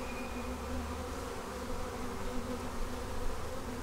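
Honey bees crawl over a heavy hive frame, their dense, steady buzzing hum close and continuous, with no voices.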